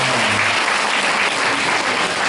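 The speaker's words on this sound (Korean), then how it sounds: "박수 한번 부탁드릴게요." An audience at a Korean language school event applauds, a steady dense wall of clapping filling the room without letup.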